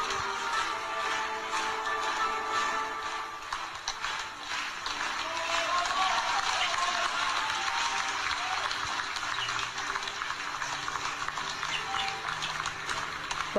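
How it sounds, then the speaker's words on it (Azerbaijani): Sustained audience applause after a theatre performance, a dense wash of many hands clapping steadily throughout, with voices mixed into the crowd noise. "Alqışlar eşitdiniz."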